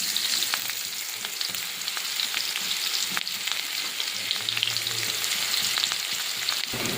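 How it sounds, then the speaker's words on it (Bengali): Onion and garlic frying in oil in a wok for a chicken recipe, a close, steady sizzle with crackling pops and occasional stirring scrapes, no voices. "দিয়ে দেবো পেঁয়াজ আর রসুন, দিয়ে পেঁয়াজ রসুনটা ভাজা ভাজা করে নেব।"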